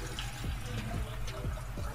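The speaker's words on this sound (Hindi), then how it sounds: "पहले पानी डालकर सॉस पैन में" Water runs into a saucepan while lemon tea is being made, a soft, steady pour heard close by with no talking.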